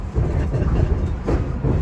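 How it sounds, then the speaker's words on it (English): SEPTA regional rail train on the Chestnut Hill West line pulling into the North Philadelphia stop, a steady close rumble of wheels on track with a few rhythmic swells. "as we pull into the North Philadelphia stop for the Chestnut Hill West trains"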